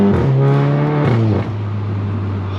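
A Volkswagen MK7 GTI with a catless downpipe and stage 2 tune accelerates hard, its engine note climbing through the revs, loud and close, with a brief dip as a gear changes and no talking.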